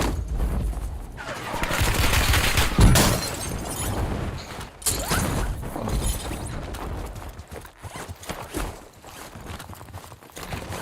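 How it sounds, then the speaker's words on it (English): Video game gunfire rattles through a sustained firefight, with dense bursts and repeated shots mixed with mechanical clatter, loud and continuous for about ten seconds. "Taking effective fire!"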